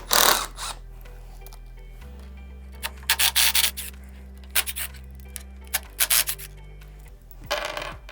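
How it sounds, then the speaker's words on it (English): Four screws being backed out of a Herman Miller Aeron Classic chair back with a 5mm hex bit on a power driver: a steady low motor whir in bursts, plus scattered close clicks and rattles of metal parts, with no talking. "We're just going to need to use a 5mm hex bit and remove the 4 screws here"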